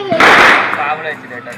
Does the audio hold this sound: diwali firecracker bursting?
yes